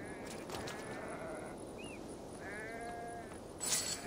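Sheep bleat in Assassin's Creed Valhalla, a couple of wavering cries standing above a steady bed of ambient game noise, with a brief brighter burst near the end.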